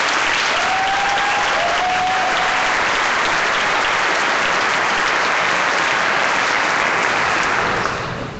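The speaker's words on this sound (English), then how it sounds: "I just want to give him one more round of applause just for that." Sustained applause from a graduation ceremony audience honoring a man, steady and dense clapping throughout, loud and continuous before tapering slightly at the end.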